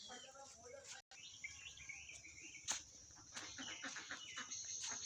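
Chickens call and chirp against a steady outdoor background, with a few sharp louder cries breaking through at moderate distance.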